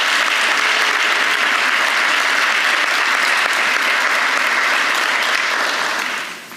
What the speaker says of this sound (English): Let's give Dr. Marino another round of applause.